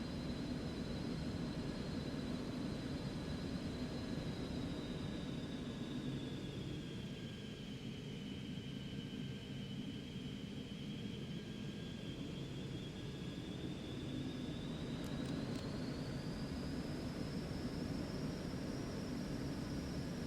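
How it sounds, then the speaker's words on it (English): Cessna Citation Mustang light business jet taking off in a flight simulator, with a steady, loud broadband engine roar throughout and a high whine that dips and rises again. "There's takeoff."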